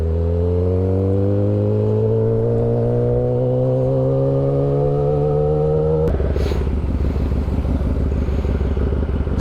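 A sports motorcycle engine revs up steadily and loudly, its pitch climbing for several seconds before dropping into a rough, rapid idle, close by and alone.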